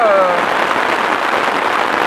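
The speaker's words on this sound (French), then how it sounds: "La pluie commence à bien donner." Dense, steady rain patters on a tarp in the Hautes-Alpes, a continuous hiss close by with a brief whistle-like tone at the start.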